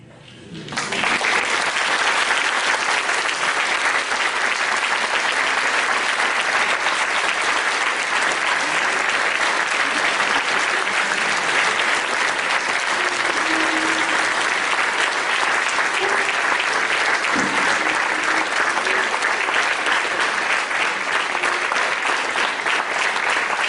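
A prayer breakfast audience breaks into sustained applause, rising quickly at the start and then holding as a full, even wash of clapping from a large crowd for over twenty seconds.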